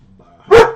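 A single sharp dog bark rings out close and loud after a quiet moment, with only a faint background murmur before it.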